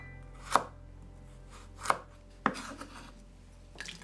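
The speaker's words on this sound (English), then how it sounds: "now, slice the burdock root into 3mm slices using diagonal cuts." A knife cuts burdock root on a cutting board into 3mm diagonal slices, making a few sharp, separate, close knocks spaced out by quiet moments.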